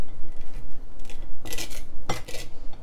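Knife scraping and clinking as soy nut butter is spread onto an English muffin, with two short clusters of scrapes against a quiet kitchen background.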